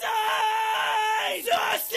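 Raw screamed rock vocal with no effects, a loud, sustained harsh yell that breaks into rougher, strained bursts toward the end, alone and close to the microphone.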